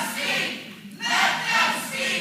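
Crowd noise at a Board of Medicine public meeting on transgender treatment restrictions, as people protest the shortened public comment, rising in loud swells of voices with a brief dip partway through.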